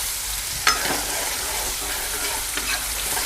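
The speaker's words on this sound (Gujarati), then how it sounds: "હિંગ થઈ જાય ને પછી આપણે આ ડુંગળી નાખી દઈશું, તેને સાતળવા દઈશું સારી રીતના।" Onions sautéing in hot oil with asafoetida in a pan for Kathiyawadi-style dal fry: a steady close sizzle with a few sharp stirring clinks, no talking.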